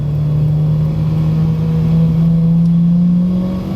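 A Honda Civic Type R EP3 accelerates in second gear, its engine note climbing steadily and loudly as it pulls from inside the car, with a smooth, rising drone throughout.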